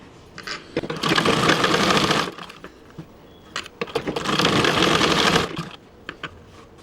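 Sewing machine stitching a simple blouse, two continuous whirring runs of a second or more each, separated by short pauses with clicks and taps of handling, close and clear.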